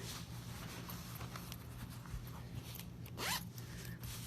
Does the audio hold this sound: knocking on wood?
no